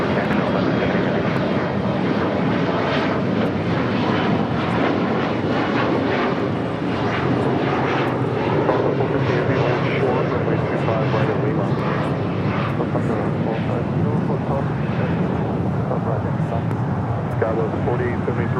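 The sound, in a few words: heavy airliner taking off from LAX runway 25 right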